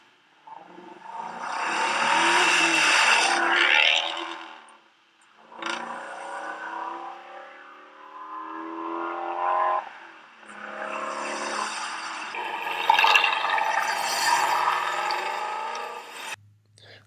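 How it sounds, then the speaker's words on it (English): A high-revving V8 engine roars in long surges, climbing and dropping in pitch over several bursts, loud and close. "listen to the sound difference between the cross-plane crank V8 and the flat plane crank V8"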